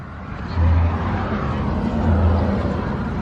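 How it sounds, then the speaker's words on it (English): A modified show truck at a car show idles with a loud, deep, rumbling engine that swells in two heavy pulses, close and steady throughout. "That's why this truck sounds so mean."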